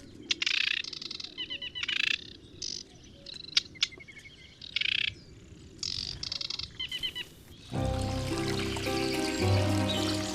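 Male birds singing in the Biebrza marshes of Poland: repeated bursts of chirping song and calls, with other birds joining and a denser chorus in the final seconds over a steady wash of outdoor background.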